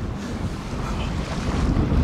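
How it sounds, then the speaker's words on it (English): Ocean waves wash under strong wind buffeting the microphone out at sea aboard a boat, a loud continuous roar that gradually swells, with no voices. "We got the whole ocean behind us."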